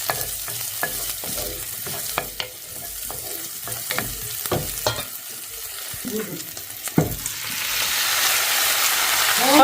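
Garlic and onion sauté together in a pan for beef caldereta, sizzling with scattered sharp clacks of stirring near the start and a fry hiss that swells louder toward the end, with no one talking.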